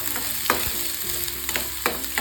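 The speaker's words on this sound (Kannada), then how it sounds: "ಈರುಳ್ಳಿ ಎಲ್ಲ ಚೆನ್ನಾಗಿ ಫ್ರೈ ಆಗಬೇಕು." Finely chopped onion fries in hot ghee and oil for an Andhra-style chilli chicken, giving a steady close sizzle broken by several sharp scrapes of a stirring spoon.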